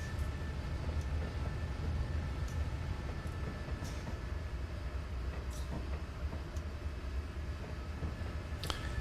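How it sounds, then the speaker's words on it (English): A train in Train Simulator 2019 on the Feather River Canyon route rolling through open countryside, a steady low rumble of wheels and engine with faint clicks and squeaks of the rails, continuous and unbroken. "it's a train going through the countryside"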